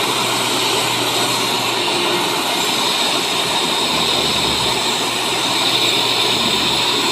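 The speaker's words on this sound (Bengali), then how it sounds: "এইভাবে এই মেশিন চালাতে ঠিক আছে এখানে সুইচ দিলে বন্ধ হয়ে যাবে" A digital machine running with a loud, constant mechanical drone and broadband whir that holds steady from start to finish without pause.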